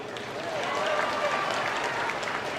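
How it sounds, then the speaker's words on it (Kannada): Audience applause at a motivational speech, a steady wash of clapping from a crowd that holds evenly through the whole moment. "ಚಪ್ಪಾಳೆ ಹೊಡಿರಿ"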